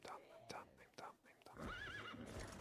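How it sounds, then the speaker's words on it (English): A horse in a video game lets out a quavering neigh at low volume, preceded by a few soft thuds and hoofbeat-like taps, with a voice whispering over it. "it was sound of my horse, of me losing a horse"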